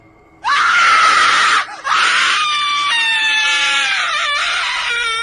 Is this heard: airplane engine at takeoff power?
no